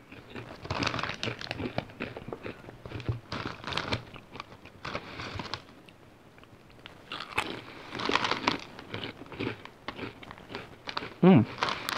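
Japanese French salad flavored potato chips are crunched and chewed up close, with bursts of crisp biting and rustling of the bag, while people talk over parts of it.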